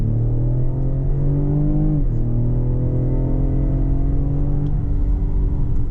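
A 2020 Ford Explorer ST accelerating hard from a launch, its engine droning loud and close from inside the cabin, pitch climbing steadily, with a brief gear-shift dip partway through.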